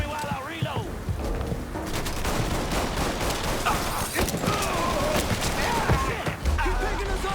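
A dense, chaotic shootout in the video game Mafia III, with rapid overlapping gunfire and scattered bangs under a continuous din, while voices shout through the fighting.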